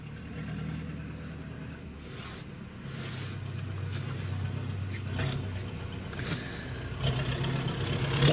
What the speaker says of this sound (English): he's gone through the puddles, and that's what churns it up